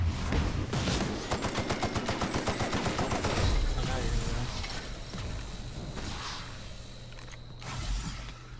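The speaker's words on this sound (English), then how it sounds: "Use your little shotgun." Rapid bursts of gunfire from a shotgun in The Outer Worlds, a dense volley of loud, closely spaced shots over the first few seconds, then a busier fight mix with scattered blasts and whooshes and faint voices underneath.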